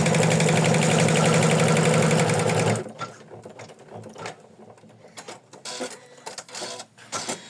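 An embroidery machine stitches an in-the-hood sequins bookmark, a loud rapid mechanical whirring for nearly three seconds before stopping, followed by faint handling and rustling noises.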